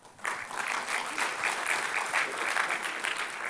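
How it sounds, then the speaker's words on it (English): Audience applause at a culinary talk in a dining room and bar, a dense, steady patter of many hands starting abruptly after a brief quiet moment and holding evenly at close range without any voices. "They're clapping for you."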